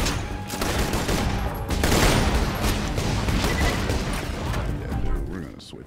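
Enemy gunfire in Borderlands 2 during a co-op fight, a dense, fast stream of rapid shots and booms that stays loud and close throughout, with a player's voice talking over the barrage.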